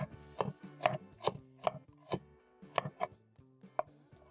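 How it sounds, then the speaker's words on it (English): A knife slicing onions on a board, about ten crisp, evenly spaced cuts in a steady rhythm, close and clear with quiet between strokes. "slice my onions"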